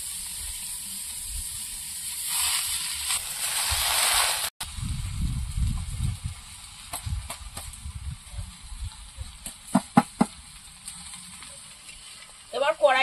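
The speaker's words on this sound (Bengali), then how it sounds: "চিংড়ি মাছ আগের থেকেও ভেজে নিতে পারেন" Prawns fry in a pan with turmeric, a sizzle that swells loud early, then drops to a lighter crackle mixed with stirring clatter and a few sharp utensil clicks.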